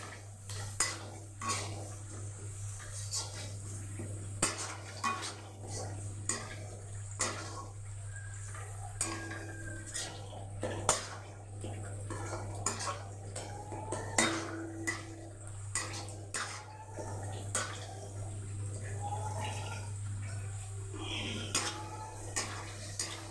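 Ginger garlic paste is stir-fried in a pan, a spatula scraping and clinking against the metal in repeated close strokes over a soft sizzle and a low steady hum, with no talking.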